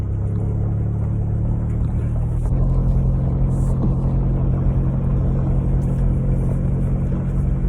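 A 1990 Ford Ranger engine idling steadily after a fuel pump replacement, a loud, even low rumble heard from inside the truck with no talk over it.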